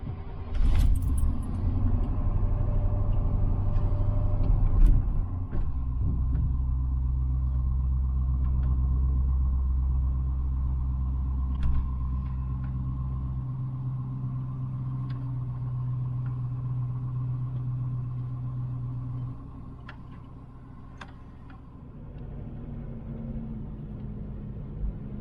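A Land Rover LR3 with a 2.7 TD diesel engine rumbles at low revs as it is driven out of a shed, a steady deep engine drone with a few small clicks, fading slightly toward the end.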